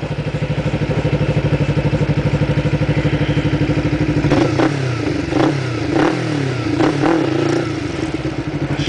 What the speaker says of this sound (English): I'm slowly raising the throttle instead of quick raising the throttle